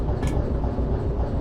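A shunter locomotive in the train simulator Derail Valley rumbles along steadily with a low, continuous rolling drone and faint clatter, close and fairly loud.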